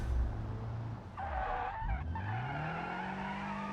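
Car in BeamNG.drive sliding through a handbrake turn, tires squealing loudly for about a second over a droning engine that revs back up afterward, with no talk.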